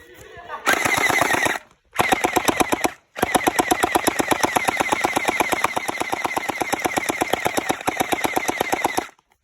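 Rapid machine gun fire from a video game, loud and close, in long sustained bursts with two short pauses between volleys.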